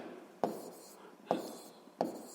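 Three short, crisp strokes of a pen or chalk writing out a physics exercise answer, each a sharp tap followed by a brief scratch, faint and close in a quiet room.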